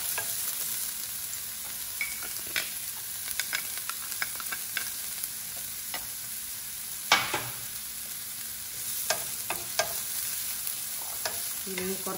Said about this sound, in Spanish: vamos a freír un poquito de cebolla. Le puse una cucharadita de aceite.